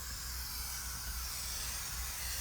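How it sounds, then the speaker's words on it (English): Spray adhesive hissing steadily from an aerosol can onto a concrete countertop scattered with polished stones, a continuous close, even spray with no break and no voices. "I'm going to take my spray adhesive"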